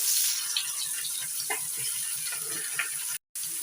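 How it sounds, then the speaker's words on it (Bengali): Cut and washed teasel gourd (kakrol) dropped into hot oil sizzles steadily and loudly, a continuous hiss with small crackles throughout, with a brief dropout near the end. "তেল গরম হয়ে গেছে, এবার এই তেলের উপরে দিয়ে দিচ্ছি কেটে ধুয়ে নেওয়া কাঁকরোল।"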